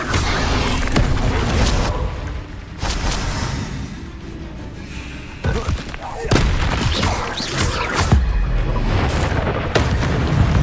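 Repeated spell-casting blasts and explosive booms from a Harry Potter video game, loud broadband bursts recurring every second or two over a continuous game backdrop, with a voice speaking between some of them.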